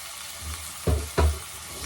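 Frying in a pan on the stove during home cooking, a low steady sizzle with two brief louder bursts of crackle, close and without voices.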